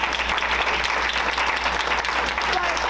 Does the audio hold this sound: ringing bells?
no